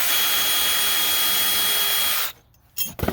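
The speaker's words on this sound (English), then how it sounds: "So I'm just pre-drilling the holes for those screws." A power drill runs steadily for about two seconds while pre-drilling screw holes for barrel bolts on a wooden DIY chicken coop, then stops, followed by a short burst of renewed whirring.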